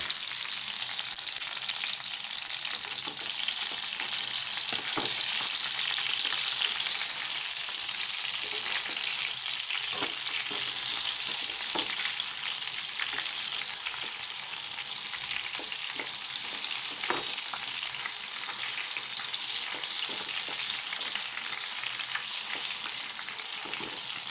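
Soybeans fry in a pan and get turned over until crisp on both sides, a long even sizzle dotted with soft scraping and tapping of the stirring utensil, no speech.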